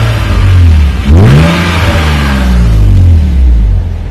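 A car engine that is running low on coolant revs hard close by, its pitch climbing and falling in a loud, continuous roar.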